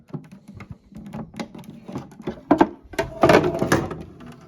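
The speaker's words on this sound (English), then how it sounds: "Maristo 30 typewriter" Maristo 30 typewriter from an attic find being opened and handled, a run of close knocks, clunks and rattling thuds of varying loudness with no talking.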